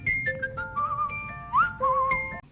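A man whistles a short, gentle melody, the notes clear and close, gliding between pitches over a faint background hiss.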